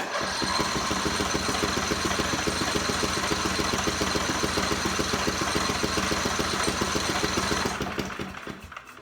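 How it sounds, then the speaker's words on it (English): A small gasoline generator engine runs steadily and loud with a fast, even mechanical chugging during storage preparation, then cuts out and fades near the end. "let's run some of this through the engine a little more."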